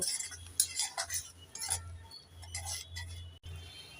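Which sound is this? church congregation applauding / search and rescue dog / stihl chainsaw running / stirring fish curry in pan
stirring fish curry in pan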